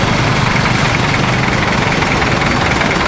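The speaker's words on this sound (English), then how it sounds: "listen to some rumbling cars" Rumbling car engines in a city street, a loud, steady low drone with a throbbing texture, close and continuous throughout, with no voices.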